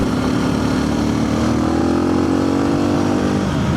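A modded Suzuki DR big bore dual sport motorcycle accelerates hard, its loud engine note rising and sustained throughout at close range, with no talking.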